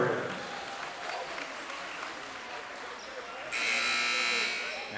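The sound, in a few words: crowd applauding cheerleaders at basketball game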